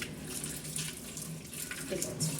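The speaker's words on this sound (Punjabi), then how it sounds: "ਹਲਕਾ ਪਾਣੀ ਅੱਧਾ ਜਿਹਾ ਕਰਕੇ ਇਹਨੂੰ ਚੰਗੀ ਤਰ੍ਹਾਂ ਖੰਗਾਲ ਕੇ ਧੋ ਸਕਦੇ ਹੋ" Water swishes steadily inside an old clay pot being rinsed out, a continuous close sloshing with brief splashy bursts near the end.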